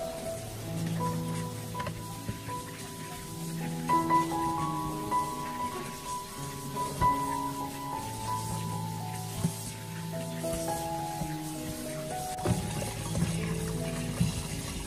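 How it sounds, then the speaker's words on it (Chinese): Pork ribs rinsed in a strainer under running water, a continuous splashing, pattering wash with tonal clatter, moderately loud and close, with a sharper burst of spray near the end. "我们再将排骨倒入一个漏网中，再用流动的清水将它仔细的冲洗一遍"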